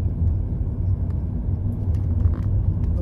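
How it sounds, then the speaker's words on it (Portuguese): A car speeds past on a road near Palmácia in Ceará, Brazil, a steady low rumble of engine and tires holding close and fairly loud throughout, with no talk over it. "Um carro vinha meio rápido"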